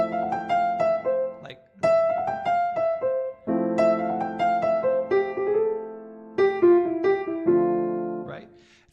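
A piano plays phrases with quick grace notes leading into sustained chords, in several separate bursts with short pauses between, close and clear, while a voice speaks briefly.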